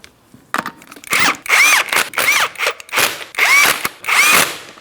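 A power tool snugs 19mm lug nuts onto a Pontiac Grand Prix wheel, five or six loud, close bursts of whirring that each rise and then cut off, separated by brief pauses.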